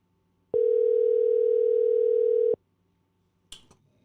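A telephone tone sounds once as a single steady, loud two-second beep over quiet room hiss, followed by a short clatter as a voice begins.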